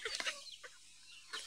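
Village chickens at a small farm of about a hundred birds give a few short clucks close by, then fall quiet before one more cluck, with no talk.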